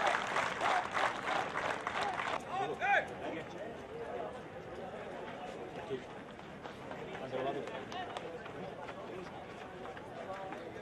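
Audience applause and cheering at an Indore commando demonstration, loud at first and fading into crowd murmur with a commentator's voice over it.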